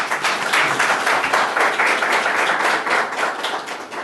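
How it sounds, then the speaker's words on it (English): Steady applause from a crowd at a provincial government event fills the whole stretch, dense and even with no voices over it. "Please, everyone, join me in giving them a round of applause."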